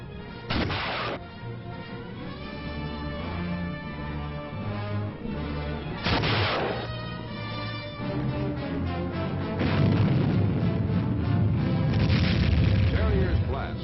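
Missile launches such as Weapon Able and Terrier rockets roar in a series of heavy booming blasts with a sustained rumbling rush, loud and close, under a narrator's voice.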